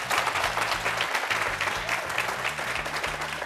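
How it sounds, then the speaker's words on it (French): Young studio audience applauding loudly at the start of a debate program, dense continuous clapping close by that holds throughout, with a low rhythmic musical bed underneath. "Amis jeunes, applaudissez-vous très fort."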